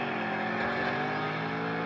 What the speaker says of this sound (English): I like to hear the engine noises when shifting